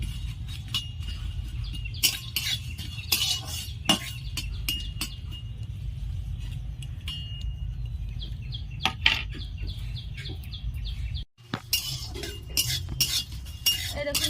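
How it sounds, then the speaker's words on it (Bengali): Whole spices frying in a pan, stirred with a metal spoon that clinks and scrapes repeatedly over a low steady hiss, close up, with faint bird chirps in the background. "যত ভালো করে ভাজবে তত ভালো করে এটা মিহি করা যাবে।"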